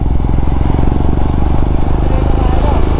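Motorcycle engine running steadily at close range during a ride in the rain, a constant low throbbing drone with a slight rattle, and no clear revving.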